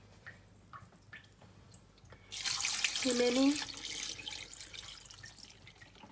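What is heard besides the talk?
water being added to pot of goat tripe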